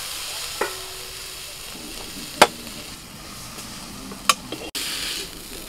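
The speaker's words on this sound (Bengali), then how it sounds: "কপি পাতাটা নাড়াচাড়া করতে করতে এরকম শুকনো শুকনো হয়ে যাবে" Cabbage leaves with a little salt and turmeric sizzle softly as they are stirred in a pan, giving a steady, quiet frying hiss broken by a few sharp clinks of the spatula against the pan.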